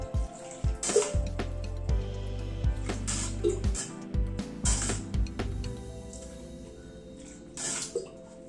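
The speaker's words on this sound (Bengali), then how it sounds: "এই জলটাকে ফেলে দিয়ে আরো 2-1 বার একটু ধুয়ে নিচ্ছি সয়াবিনটাকে" Soya chunks are squeezed and washed by hand in a bowl of plain water, with wet squelching and sloshing in uneven bursts and dripping between them, close by and with no talking.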